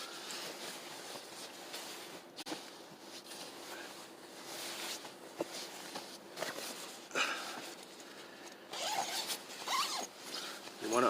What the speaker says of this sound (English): You want to unzip it just a little bit.